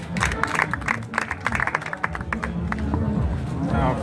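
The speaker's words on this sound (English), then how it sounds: "please clap for him" Audience applause at an English language club gathering, a short burst of scattered clapping from a room of people, moderately loud, with some voices mixed in.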